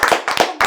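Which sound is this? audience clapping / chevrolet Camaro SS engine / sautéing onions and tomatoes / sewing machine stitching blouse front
audience clapping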